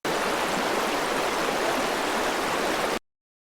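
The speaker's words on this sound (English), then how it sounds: "You feel the cool breeze and hear the sound of water." River water flows steadily in a continuous broadband rush, a loud, even stream of moving water that stops abruptly.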